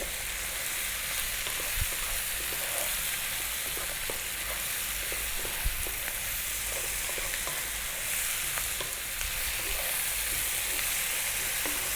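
Spices fry and sizzle steadily in a pan for a vegetable coconut curry, a constant close hiss with scattered crackles and occasional clicks of stirring, with no talking.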